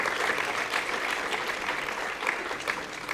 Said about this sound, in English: big round of applause for her